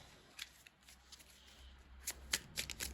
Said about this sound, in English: The ones that came out, we're going to be shuffling.